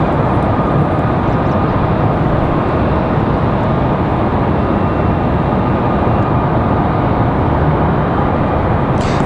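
An airliner being pushed back off the gate at Raleigh-Durham airport, a loud, constant jet-engine roar and broadband whine filling the whole stretch without a break.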